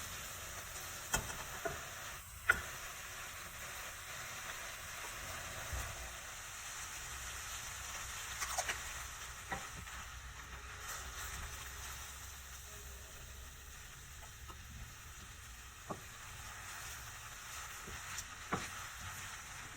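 Chow mein noodles stir-frying in a pan give off a soft, steady sizzle throughout, with faint scattered clicks and scrapes from stirring.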